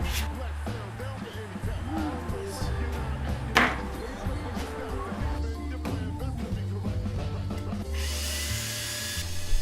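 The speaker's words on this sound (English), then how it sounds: "after I'd finished sanding the top and bottom faces" Power sanding of the top and bottom faces of a wooden puzzle, a rough, buzzing rub running continuously with brief louder scrapes, heard alone at moderate volume.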